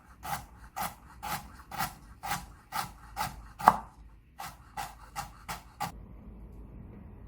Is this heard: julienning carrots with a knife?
yes